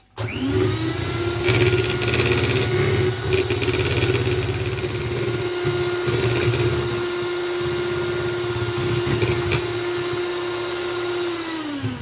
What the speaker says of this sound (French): le chocolat fondu avec la crème. Je vais fouetter à nouveau, sans oublier de fermer.